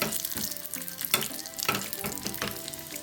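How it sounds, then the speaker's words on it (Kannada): Cashews and raisins sizzling in hot ghee in a pan, a steady close frying crackle with a few sharper clinks and stirring scrapes. "ಇದಕ್ಕೆ ಕಾದ ಮೇಲೆ ಗೋಡಂಬಿ ದ್ರಾಕ್ಷಿ ಹಾಕ್ಕೊಂಡು ಒಂದು ಫ್ರೈ ಮಾಡ್ಕೊಳ್ಳಿ"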